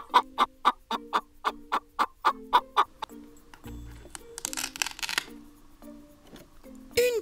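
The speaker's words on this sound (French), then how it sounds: "Une poule." A hen clucks in a quick, regular series of sharp calls, followed by quieter rustling and a few scattered sounds, while wooden farm toys are handled.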